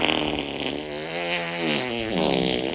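A long, loud cartoon fart sound effect plays with a wavering, pitch-bending buzz that dips and rises again over nearly three seconds, with no talking over it.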